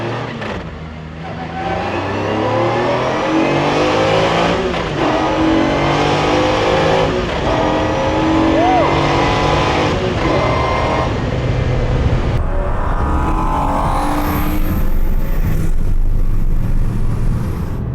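A Mercedes CLK GTR Roadster engine roars and revs continuously while driving, with loud rising and falling gear pulls and a downshift blip, heard close from inside throughout.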